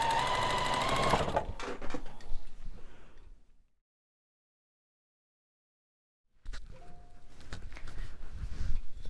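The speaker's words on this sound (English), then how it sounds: "all you have to do is sew them together again using your 1/4-inch seam" Sewing machine joining quilt block rows with a quarter-inch seam, running steadily in a loud burst that fades out, then falls silent for a few seconds before stitching resumes nearby.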